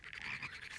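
A brief, dense burst of cartoon frogs croaking together, raspy and close, filling under a second with no speech.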